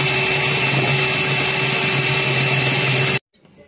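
Electric mixer whipping cream with sugar for a no-bake strawberry dessert, a steady loud motor whine held for about three seconds before cutting off abruptly.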